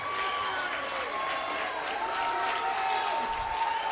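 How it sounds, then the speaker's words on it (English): Spectators at an under-14 girls' football final applaud a goalkeeper's save, a soft steady patter of clapping from the touchline, heard alongside a commentator talking. "And that gets a round of applause from both ends, as Brianna Gaynor"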